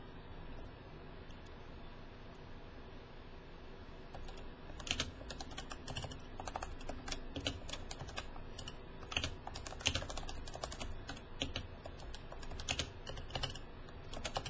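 Typing on a Leopold FC660C keyboard during a typing race, fast irregular keystroke clicks starting near five seconds and continuing densely at close range over a steady background hum, with no talking.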